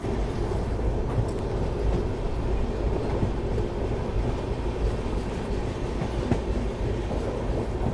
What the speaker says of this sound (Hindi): हमारी ट्रेन भी जो है डिपार्चर हो चुकी है।